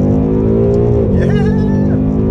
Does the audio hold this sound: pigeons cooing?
no